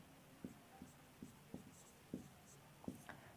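During a Hindi lesson on heredity and child development, someone writes on a board, making about seven short, evenly spaced scratching taps. The taps are faint and close, over a low room hiss, with no talking.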